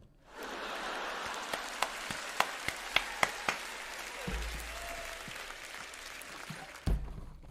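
Crowd at a Juventus team event in the USA applauding, a sustained wash of clapping with several sharp nearby claps standing out, easing off toward the end.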